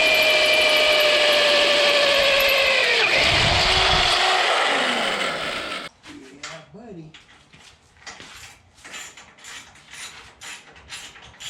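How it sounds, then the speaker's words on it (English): A loud power drill whines steadily, its pitch sagging as it bites and bogs down drilling through a metal mower frame, then cuts off, leaving quiet clicks and handling noises. "we're going to use as a guide for our drill bit to send it up through the frame"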